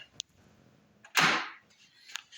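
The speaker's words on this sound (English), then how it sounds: "Let me lock the door." A door lock being turned gives a short sharp clack and a brief scraping rattle in a quiet room, with a couple of faint small clicks before and after.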